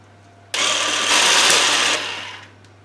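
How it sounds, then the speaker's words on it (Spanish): An electric hand mixer beats sponge cake batter in a bowl, a loud steady whirring drone that starts abruptly, holds for about two seconds and then eases off, with no talking. "Y ahora lo que vamos a hacer es batir esta mezcla."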